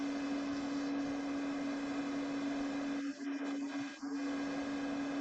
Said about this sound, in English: Now the hot air dryer comes into use at level 1.